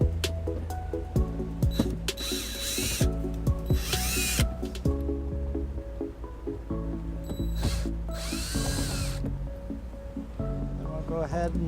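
Power drill backing Phillips screws out of the cargo-area doors of a 2007 Toyota RAV4, several short whirring bursts with ratcheting clicks and handling noises between them, close up.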